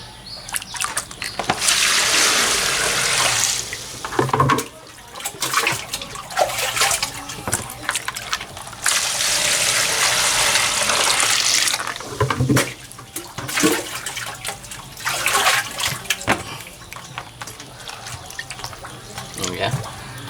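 Running water pours and splashes over bamboo roots as soil is washed off, loud bursts of gushing flow alternating with quieter gaps, with people talking at times.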